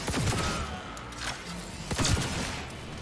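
A few sharp gunshots in a video game, one early and another near the middle, each a quick crack with a short thud, over a busy low background.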